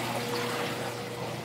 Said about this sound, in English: That pump is just moving so much water it can't barely keep up.